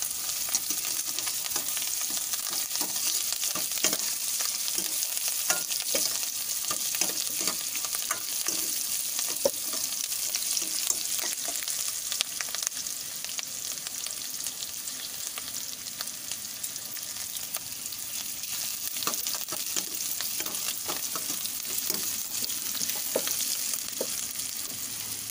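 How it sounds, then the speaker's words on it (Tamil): Tomatoes sauté with salt in hot oil for prawn kulumbu, a dense steady sizzle with scattered spatula scrapes and stirring clicks, close and continuous for the whole stretch, no voices. "இது கூட கொஞ்சம் உப்பு போட்டு சேர்த்து உப்பு போட்டு வதக்கணும்னா சீக்கிரம் வதங்கிடுங்க"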